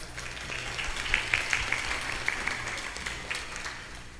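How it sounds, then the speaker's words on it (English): An audience at an interfaith program gives sustained applause for someone speaker, dense steady clapping with a few sharper individual claps standing out. "Let's give Dua a big round of applause."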